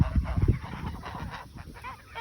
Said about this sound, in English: There's all the geese,